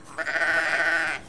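A sheep bleats in a wolf hunting video game, one drawn-out, wavering cry of about a second, close and clear over a quiet background.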